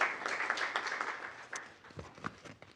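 Brief, scattered clapping from a small group at a school board meeting, a moderate patter of hands near the room's microphone that thins out after a couple of seconds.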